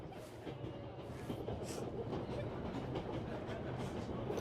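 A train rolls steadily on rails in the 11-11 Memories Retold video game, with a continuous low rumble and rhythmic clatter of the carriage, fairly close, with no talk over it.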